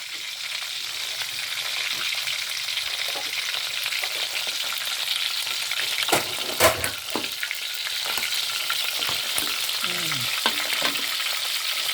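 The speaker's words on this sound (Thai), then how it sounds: "ทอดไปกลางค่ะ ทอดไปกลาง ทอดไปแดงก็ไม่อร่อยนะคะ" Mackerel frying in oil in a pan, a constant close hiss and crackle with occasional sharp pops and a brief burst of scraping or stirring midway, no voices.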